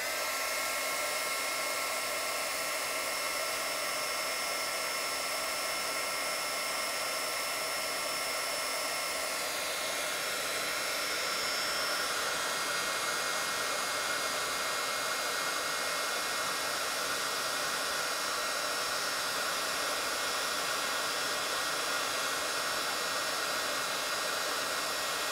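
A heat tool melts red embossing powder with a steady, loud whooshing blow that runs without a break, its airy tone shifting slightly partway through.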